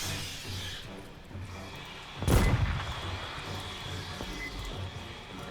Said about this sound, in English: Heavy turret here are gonna be putting in a lot of work, as long as it gets the shots.